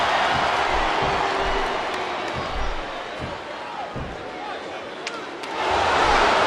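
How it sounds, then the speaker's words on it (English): A large arena crowd in the wrestling video game Smackdown vs RAW 2007 roars in a dense, continuous wash of cheering that dips midway and swells louder again, with occasional thuds beneath. "Sounds like this crowd's got something on their minds, King."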